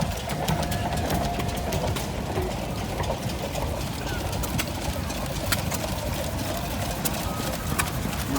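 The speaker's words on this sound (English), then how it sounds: "Nice small engine there like that. Little gas engine." A small vintage stationary gas engine running at a tractor show, a steady dense mechanical chugging that continues throughout, close and fairly loud, with outdoor crowd noise around it.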